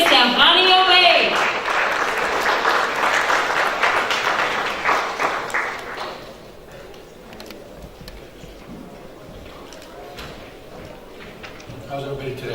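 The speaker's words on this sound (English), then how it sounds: "So please give a round of applause to Mr. Hani Obeid." An audience at a business summit applauds for a speaker, a loud, close burst of many clapping hands that tapers off after about six seconds into a quieter room with faint murmurs.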